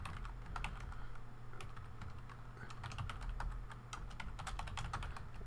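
Typing on a computer keyboard while filling in a simple HTML form: quiet, quick key clicks in irregular bursts sit close over a low steady hum.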